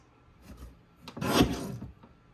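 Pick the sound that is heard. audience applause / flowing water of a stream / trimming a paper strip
trimming a paper strip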